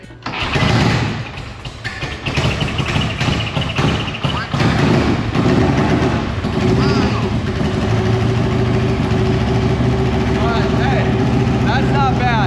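A 1979 Harley-Davidson Shovelhead, unridden for twenty years, runs after a kick start with a steady loud idle throughout, while people talk over it near the machine.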